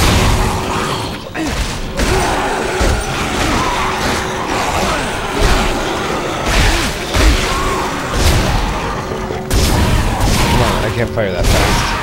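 Continuous game combat in Dead Space 2, with loud gunfire, mechanical clanks and booms layered densely together and a voice heard within the din.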